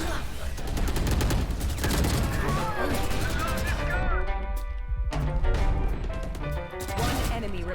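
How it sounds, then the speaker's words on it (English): Rapid Phantom rifle fire from the Valorant video game cracks out in bursts, mixed with a kill sound effect and game music, dense and close throughout. "hear the orgasm-inducing phantom kill sound effect"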